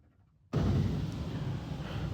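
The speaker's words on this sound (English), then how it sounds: "That was very loud, but rocker panel blasters as well." Rocker panel blasters at a D&S IQ soft-touch car wash burst on abruptly, a loud, steady high-pressure spray that roars broadband and continues without a break.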